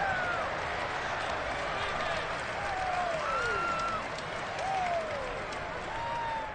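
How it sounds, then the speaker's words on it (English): At a football stadium, a large crowd reacts to a penalty call with a broad, continuous roar of mixed voices. Whistles or rising shouts streak through it, and a commentator speaks over the noise. "Well, this crowd does not like that call."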